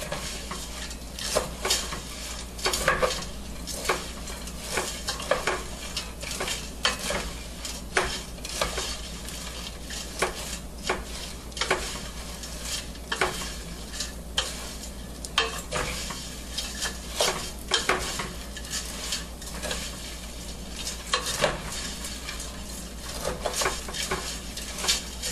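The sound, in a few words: stirring fideo noodles frying in pan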